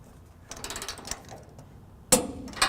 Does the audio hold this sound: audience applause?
no